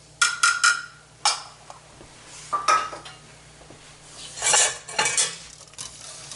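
Diced onions, carrots and celery stirred in a pan, with a few close, sharp clinks and scrapes of utensil on metal in short bursts separated by quieter pauses.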